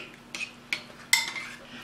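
A utensil stirring black beans and corn in a bowl, producing three sharp clinks against the dish spaced under a second apart, close and fairly loud with no talk.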